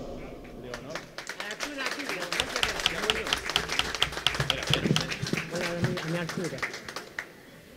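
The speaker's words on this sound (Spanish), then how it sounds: "para la que pido un cariñoso aplauso" An audience at an evening parrandas folk gathering in Telde, Gran Canaria, breaks into loud, sustained applause, mixed with voices and cheering from the crowd.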